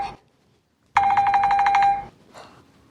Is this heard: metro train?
no